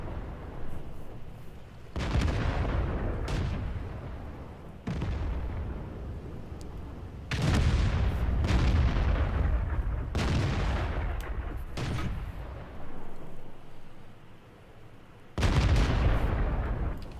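Tank guns fire in the video game World of Tanks: a series of heavy booming shots, each a loud blast followed by a rumbling tail, spaced a few seconds apart with quieter gaps between.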